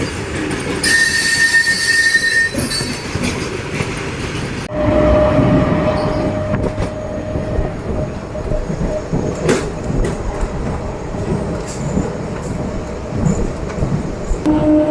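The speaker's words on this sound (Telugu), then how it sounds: "ఆ గూడ్స్ వెళ్తుంది కదండి రైట్ సైడ్కి" A goods train rolls past on the railway near Eluru with steady rumbling wheels and wagons clattering, a sustained metallic squeal over the noise, and the loud passing continuing throughout without any talk.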